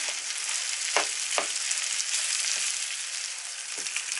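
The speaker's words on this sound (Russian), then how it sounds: "И еще заодно туда отправляем ветчину. Тоже на обжарку." Ham frying in a pan sizzles in a steady, bright hiss, broken by a few soft stirring scrapes, close and fairly loud with no voices.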